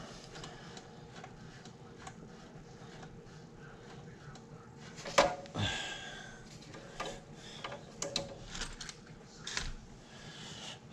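Small wrench turning a screw on a Honda Keihin EFI part, a run of close, quiet metallic clicks and ratcheting taps with a few sharper knocks midway.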